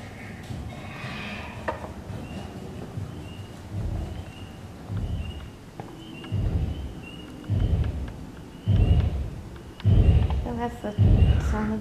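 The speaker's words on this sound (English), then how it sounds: "We heard thunder." Deep rumbling booms roll in repeatedly, growing louder toward the end, like thunder or a large roaring creature, at a T. rex versus Triceratops diorama in the Milwaukee Public Museum, with people talking faintly underneath.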